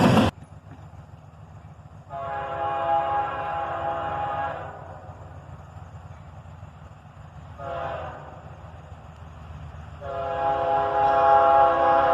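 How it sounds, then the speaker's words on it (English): A pair of ES44AC locomotives leading an intermodal train blasts its horn in a salute, with three loud chord blasts of uneven length over a steady rail rumble that swells toward the end. "Here we get a nice horn salute from the engineer as a pair of ES44 ACHs"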